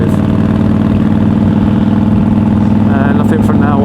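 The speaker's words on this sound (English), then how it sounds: "And I'll put the exhaust sound back on now." A car engine's exhaust, captured with a Zoom H2N recorder, rumbles loud and steady at a low idle-like drone throughout, with a voice talking over it near the end.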